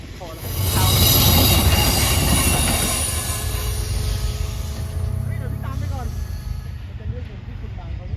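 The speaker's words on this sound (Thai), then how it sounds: "มาแล้วนะครับขบวนรถสินค้า บรรทุกปูนนะครับขนปูนขบวนที่ 517 นะครับ" A freight train of cement wagons, number 517, rolls through Hin Lap station on a mountain line. There is a loud, close rumble of wagons with squealing wheels and clacking rails, fading slightly, under a voice.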